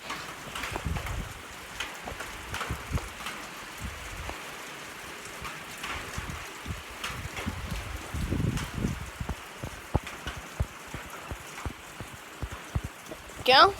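Rain falls steadily outdoors, a soft continuous patter with scattered sharper drops and taps close by, and a brief louder knock near the end.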